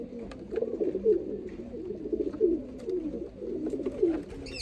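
Pair of Choha Sialkoti pigeons cooing steadily up close, soft rolling coos repeating in a continuous rhythm with no talk.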